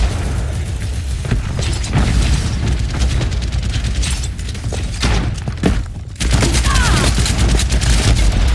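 D.Va's mech self-destructs in the video game Overwatch amid loud repeated booms and gunfire bursts of a chaotic fight, ending in a heavy sustained blast.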